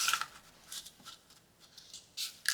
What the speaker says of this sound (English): and let's give it a nice crease